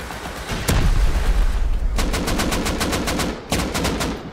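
Rapid bursts of automatic gunfire in the survival game Rust, loud and close, with a heavy blast early on followed by two quick, rattling volleys of repeated shots.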